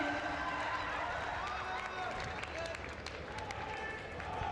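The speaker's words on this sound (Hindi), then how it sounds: "तमाम तालियों से इस क्षण का आनंद लेते हैं।" A crowd applauds to welcome the Prime Minister at a Bhagwan Birsa Munda 150th birth anniversary event in Narmada, a continuous distant wash of clapping with crowd noise and an announcer's voice over it.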